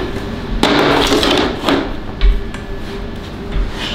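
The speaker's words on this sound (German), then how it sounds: "Schneide die Platte da schon mal." A machine cuts a floor panel during flooring installation, producing a loud, harsh, noisy cutting roar that rises and falls in bursts with sharp knocks in between, heard close up without talk.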